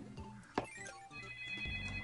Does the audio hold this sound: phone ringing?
yes